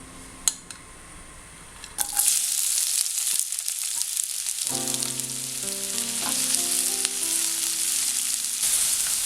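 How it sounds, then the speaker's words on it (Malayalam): Onions hit hot coconut oil in a pan and burst into a loud, steady sizzle after a couple of faint clicks, frying continuously with crackling throughout, no voices. "എണ്ണ ചൂടായി കഴിയുമ്പോഴത്തേക്കും ഇതിലേക്ക് സവാളയാണ് ചേർക്കേണ്ടത്."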